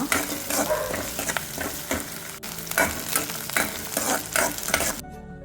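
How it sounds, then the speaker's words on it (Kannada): Cloves and chopped onion frying in hot ghee, a close, steady sizzle broken by repeated scraping stirs in a rhythmic pattern, ending abruptly. "2 ಟೇಬಲ್ ಸ್ಪೂನಷ್ಟು ತುಪ್ಪವನ್ನು ಬಿಸಿ ಮಾಡಿ ಅದಕ್ಕೆ ಲವಂಗ, ಹೆಚ್ಚಿದ ಈರುಳ್ಳಿ ಹಾಕಿ ಚೆನ್ನಾಗಿ ಫ್ರೈ ಮಾಡ್ಕೊಳ್ಳುವ"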